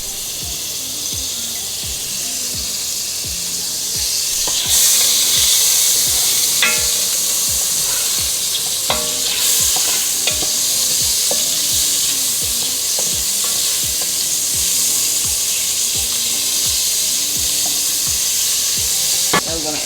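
Beef neck bones fry in butter and oil, giving a loud, continuous sizzle that flares up at moments, over a faint rhythmic beat of background music.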